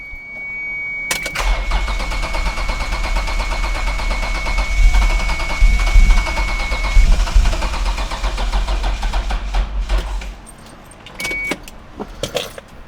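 A Toyota MR2 swapped with a 2GR V6 cranks over repeatedly, a loud, close, rhythmic starter churn lasting several seconds without catching, followed by a few clicks and quieter handling noises.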